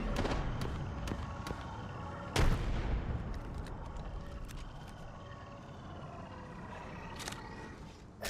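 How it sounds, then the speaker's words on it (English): A frag grenade goes off in a shooter video game, one sharp, heavy blast midway through a dense, constant barrage of gunfire and impacts. Scattered cracks and thuds continue after it. "Throwing frag."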